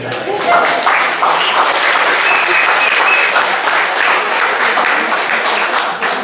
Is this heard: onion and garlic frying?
no